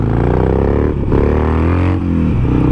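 Harley motorcycle engine revving hard during a wheelie, a loud, continuous rumbling drone that dips briefly at two points between throttle blips, close by with no talking.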